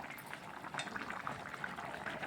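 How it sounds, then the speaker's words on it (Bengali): Raw banana and potato curry simmers in a pot, a steady, soft bubbling hiss with small pops scattered throughout, close and continuous with no talk. "দেখুন এই যে সবজিটা ফুটেও গেছে"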